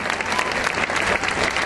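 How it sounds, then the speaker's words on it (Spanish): Steady, dense applause fills a student rally in Mexico as a tribute to murdered students, a close, sustained wash of many hands clapping throughout. "Les brindemos un aplauso para ellos en forma de homenaje"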